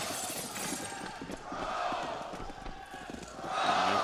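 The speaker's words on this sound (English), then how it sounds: "hear the crowd" Crowd noise from Virtus Pro fans at the Fox Theater during the ELEAGUE 2017 CS:GO Major final, a steady roar that swells louder near the end, with faint game sounds underneath.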